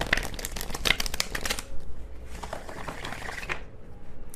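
Tarot cards being shuffled by hand, a close rustle of riffling bursts that stops, pauses, then returns with softer stiff paper flicks and shuffling.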